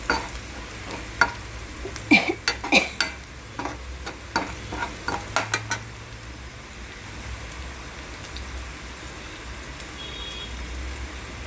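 Onion and green chili frying in a pan, with a run of spatula scrapes and clinks over a soft, steady sizzle that carries on alone after the stirring stops, close with no talking.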